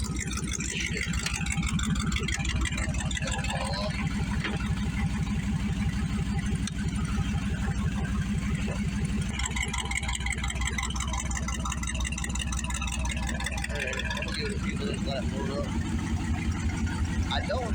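An LS-swapped Ford Foxbody's engine idles steadily with no throttle input, a constant, even mid-to-low rumble running throughout the whole stretch while someone talks over it.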